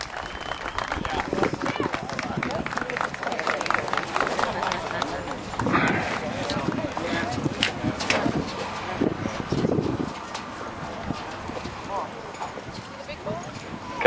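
Horse hooves clip-clop in a quick, uneven rhythm on firm ground at a mounted patrol competition, mixed with outdoor noise and occasional voices in the background.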